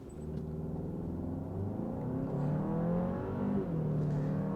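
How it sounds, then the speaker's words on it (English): A 2021 Kia Sorento SX Turbo engine revs up to around 2,000 RPM while the car sits still, giving a steady, low, muffled hum that swells slightly and holds, heard from inside the cabin with no talking. "I think maybe this will let the car rev at higher RPM"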